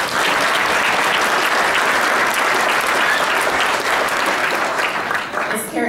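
Sustained, loud applause fills a New Mexico state senate chamber on the opening day of the 2014 session, dense clapping from many hands holding steady before tapering slightly at the end.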